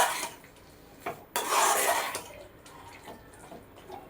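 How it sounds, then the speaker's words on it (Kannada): Water poured into freshly ground paste for a ridge gourd curry: a short splash, then a louder, sustained pouring rush lasting under a second, with light clinks of utensils around it; no talking. "ನೀರು ಆ್ಯಡ್ ಮಾಡ್ಕೊಬೇಕು."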